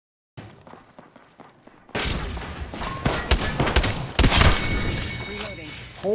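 Rapid bursts of video game gunfire crackle and boom after a quiet start, loud and close with overlapping shots and impacts, while a player talks excitedly over the action.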